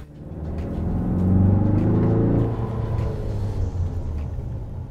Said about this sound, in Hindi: इंजन की नॉइस केबिन के अंदर आपको सुनाई देने वाली है